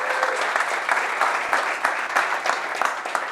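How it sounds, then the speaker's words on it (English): A room of attendees at a tester gathering claps for a camera operator, steady mid-level applause with scattered individual claps standing out. "Let's have a round of applause for Phil."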